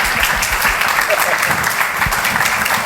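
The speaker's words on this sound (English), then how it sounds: "I'd really like to give them a sort of big round of applause for having shared their story with us" Audience applause at a food entrepreneurs' panel event, a steady dense clapping throughout the short stretch.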